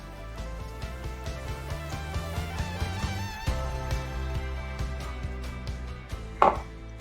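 A knife chops cleaned squid on a board in a quick series of sharp knocks, close and fairly even in rhythm, over a constant low hum, with one louder clatter near the end.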